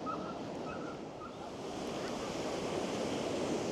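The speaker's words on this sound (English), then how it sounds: "just listen to the sea" Sea waves wash onto the beach at Blackpool, a broad, continuous rushing surf mixed with gusts of wind buffeting the microphone, fairly faint and steady without speech.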